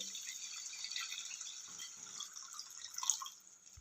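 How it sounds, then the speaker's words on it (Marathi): Water trickling and dripping into a cooking pot holding chopped chilli and coriander for village-style pithla, a steady soft splashing stream with no voices. "हा याच्यामध्ये मी आता पाणी घालत आहे"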